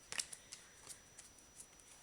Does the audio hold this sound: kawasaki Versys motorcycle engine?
no